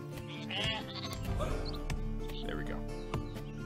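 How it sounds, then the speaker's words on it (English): Sheep bleating as one is slaughtered in the strategy video game Northgard, several wavering bleats over a busy layer of game music and effects, with a person talking underneath. "Let's go ahead and slaughter one sheep."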